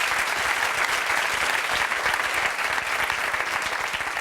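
Studio audience applauding on a 1990s daytime talk show, a steady dense wash of clapping that fills the whole stretch at strong, even loudness with no voices on top.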